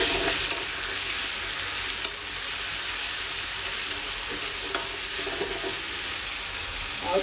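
Chopped onions with a teaspoon of ginger-garlic paste fry in a pan for a pangas fish and potato curry, giving a steady, close broadband sizzle with a few sharp utensil taps; no one speaks.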